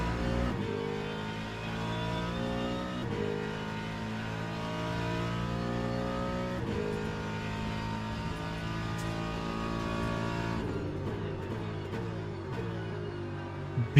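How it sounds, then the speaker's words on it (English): A Ford Mustang GT3 race car in the Le Mans Ultimate racing game roars steadily at high revs, rising and falling through gear changes with a deep, continuous engine note that keeps a muscular rasp throughout. "Beautiful Mustang sound,"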